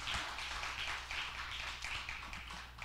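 Audience applause in a church during a Sunday afternoon service, a steady wash of many hands clapping continuously at moderate distance, with no talk over it.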